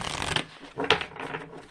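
Tarot cards riffled and shuffled by hand at close range, two or three quick papery bursts in under two seconds with no talking.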